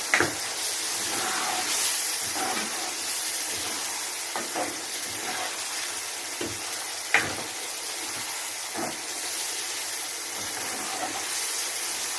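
Chicken karahi is mixed and fried in a pan, giving a steady, close sizzle and hiss broken by occasional scrapes and taps of a spoon against the metal, with no speech.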